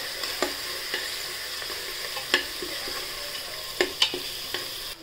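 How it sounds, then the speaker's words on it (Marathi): Chana dal and toor dal frying in hot oil with turmeric give a continuous close sizzle, with clicks and scrapes of a spoon stirring the pan every second or so; nobody speaks. "चण्याची डाळ आणि तुरीची डाळ ही तेलात परतून घ्यायची"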